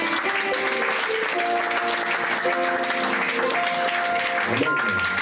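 Church congregation clapping steadily throughout, dense applause mixed with sustained singing or shouting voices and some musical tones beneath.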